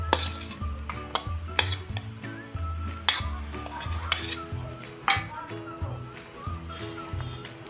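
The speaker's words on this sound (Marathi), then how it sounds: "ह्या टोमॅटो, गाजर आणि कांदा सगळं एकत्र मिक्स करून घेते." Chopped cucumber, tomato, carrot and onion mixed in a bowl, with repeated clinks and scrapes of a spoon against the dish at an uneven rhythm, close and moderately loud, while a voice speaks over it.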